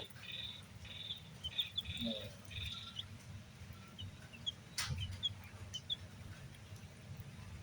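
Newly hatched chicks from a homemade egg incubator give faint, high, repeated cheeps in short bursts over a low background hum, with no voices.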